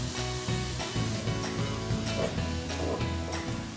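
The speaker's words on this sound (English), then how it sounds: "we want to saute this probably about 10 minutes" Vegetables for a meatless lasagna sauté over medium heat in a pan, a steady close sizzle and frying hiss running throughout with faint stirring and a soft tonal hum underneath.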